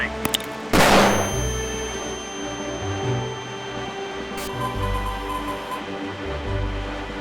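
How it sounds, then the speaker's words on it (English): A flashbang grenade thrown in a video game goes off with one sharp, loud burst early on, over continuous tonal game music that carries on afterward. "Throwing flashbang."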